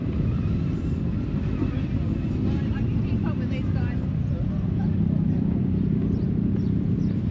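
Harley-Davidson motorcycles rumbling through a seaside town on a charity ride, a constant low, dense engine drone that fills the whole stretch at a steady level.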